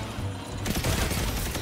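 Sustained automatic gunfire in a first-person shooter, a dense continuous burst that starts abruptly partway through and rolls on loudly to the end, with faint game noise before it.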